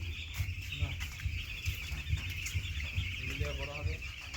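A flock of small chickens clucking and pecking while being fed outdoors, soft repeated clucks near and far, with a person talking over them.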